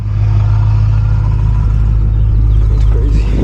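A modestly supercharged BMW E92 M3 drives along with a loud, steady low engine drone and road rumble throughout, rising slightly in strain toward the end, heard from inside the car with no talking.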